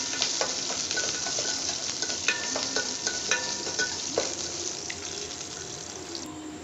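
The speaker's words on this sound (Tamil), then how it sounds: "இது பச்சை ஸ்மெல் போகிற வரைக்கும் ஒரு நிமிஷம் நம்ம வந்துட்டு வதக்கிக்கலாம்" Ginger and six garlic cloves for a chutney sizzle steadily in a hot pan, with a spatula scraping and tapping now and then over the continuous frying hiss.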